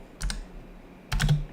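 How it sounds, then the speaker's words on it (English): Computer keyboard keys clack in two short bursts of quick typing separated by a brief pause, close and crisp. "I'm typing Mario Bros"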